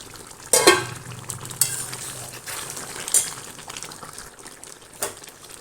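Field beans with brinjal and drumstick are stirred in a pan as a stir-fry cooks, with several sharp metallic scrapes and clinks over a soft sizzle.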